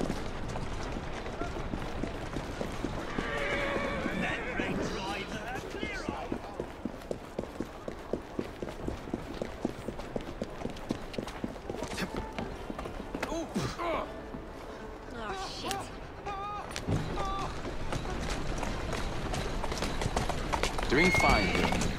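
Galloping horse hooves clip-clop in a fast, steady rhythm throughout a ride in the video game Assassin's Creed Syndicate, with occasional whinnies, street and carriage noise, and voices talking over the ride.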